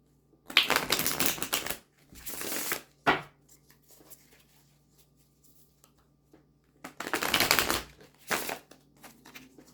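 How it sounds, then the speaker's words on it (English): Several bursts of riffling cards, each a quick flurry of papery clicks, separated by pauses with quieter handling in between. "We're still shuffling cards."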